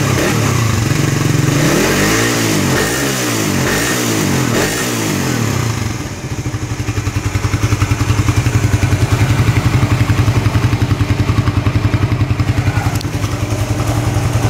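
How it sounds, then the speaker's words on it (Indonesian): A fuel-injected Suzuki Satria FU motorcycle engine revs in several rising and falling bursts close by. It then holds a loud, steady, buzzing high rev for the rest of the time. "itu dia suara FU injeksi"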